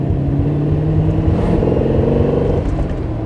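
A 1972 Maserati Ghibli 4.9 SS with its five-litre engine accelerating, a loud, close, continuous throaty drone that holds steady throughout.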